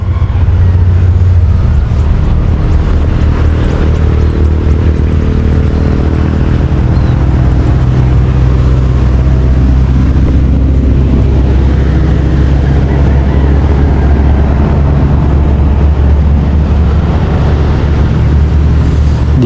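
A grass cutter motor runs loud and close in a rice paddy, a steady droning engine hum with constant low rumble throughout, no pauses.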